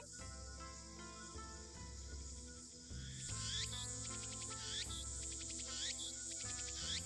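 Shrill, buzzing cicada chirps from the video game Steins;Gate pulse in repeating bursts over a steady synthetic musical drone, sounding electronic rather than natural.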